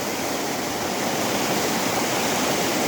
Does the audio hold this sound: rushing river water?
yes